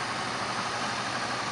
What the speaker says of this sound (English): 32 valve V8.